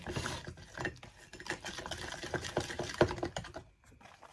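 Corn dog batter of flour, baking powder and salt being mixed in a bowl, with a steady run of quick clicking and tapping strokes against the bowl, close and moderately loud, no talking.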